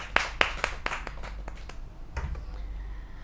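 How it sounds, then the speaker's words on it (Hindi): A thin smattering of hand claps from a kavi sammelan poetry audience: a handful of sharp, separate claps come in quick succession and then die away within about two seconds. "एक बार तालियां हो जाएं"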